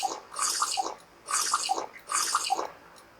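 Three gulping, sloshing water bursts from a character drinking in the survival game Stranded Deep, evenly spaced with short pauses between, close and fairly loud with no talking.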